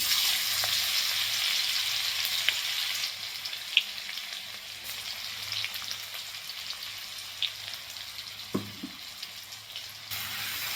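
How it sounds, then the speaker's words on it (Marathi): Garlic and green chili paste frying in hot oil in a kadhai, a steady broad sizzle throughout with faint stirring scrapes and a few soft clinks. "तेल गरम झालेलं आहे. तर सगळ्यात पहिल्यांदा आपण हे जे मिरचीचं वाटण केलं होतं लसूण मिरचीचं ते घालायचं आहे बघा."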